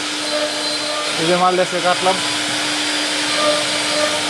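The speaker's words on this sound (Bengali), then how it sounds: "ওইখানে চলতেছে সিএনসি ফ্রেজার মেশিন 560" A CNC milling machine, model 560, runs on a factory floor with a loud, steady whirring drone and a constant tonal hum. A voice speaks briefly over the machine noise.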